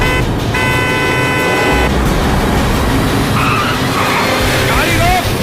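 In a fantasy dragon game cutscene, a car engine roars loudly and tires skid throughout, while voices talk over the driving noise.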